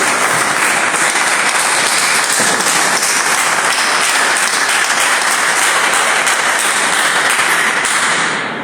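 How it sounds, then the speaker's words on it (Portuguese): Church congregation breaking into loud, sustained applause for Jesus during a service, a dense, even roar of many hands clapping that holds steady throughout and tapers slightly at the end, with no speech over it. "dê uma salva de palmas para a alegria para Jesus"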